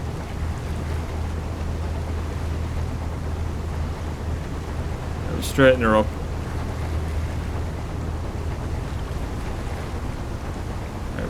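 Ship engine rumbling with ocean ambience in the ship simulation game Seafarer: The Ship Sim, a low steady drone throughout under a short spoken remark midway.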